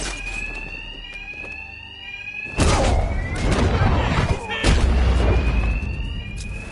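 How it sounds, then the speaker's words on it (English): A blaring alarm in Batman Arkham Knight, a steady high electronic tone running throughout, then swamped by heavy crashing impacts and thuds of a loud fight. "Two-Face's thugs won't hear me over the alarm."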